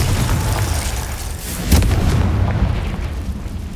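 A Confringo blast spell goes off in the Hogwarts Legacy video game, a loud booming burst near the middle over a steady rumbling game soundscape.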